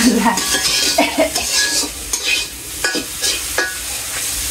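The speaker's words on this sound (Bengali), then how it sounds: "শুধু জল দিয়ে সিদ্ধ করছি আর রসুন দিয়ে ভাজছি" Garlic fries in a pan as a utensil scrapes and clinks against the metal in repeated strokes over a loud sizzle, with no talk.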